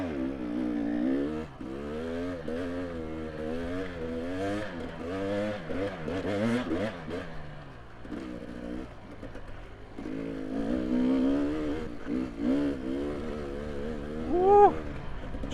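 An enduro motorcycle on a race speed stage revs hard and stays close, its engine pitch rising and falling through gear changes and throttle blips, with a brief sharp peak near the end.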